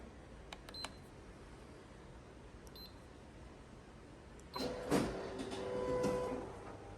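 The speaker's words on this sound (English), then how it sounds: "now going over to the Riso printer" A Riso printer makes a screen on its drum: after faint clicks and a quiet hum, the machine starts with a mechanical whir, a clunk and a steady rising whine, moderately near with no speech.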